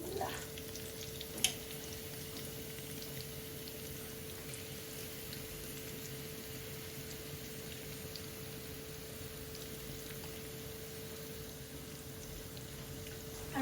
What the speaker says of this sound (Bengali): তেলের মধ্যে আমি কারিটা রান্না করবো আমি পেঁয়াজটা দিলাম